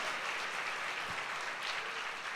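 Sustained applause from a congregation during a Sunday church service, a dense, uniform patter of clapping that holds steady at a moderate distance for the whole stretch.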